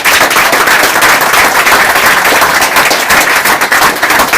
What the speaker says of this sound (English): please give the sisters a round of applause for this preparation.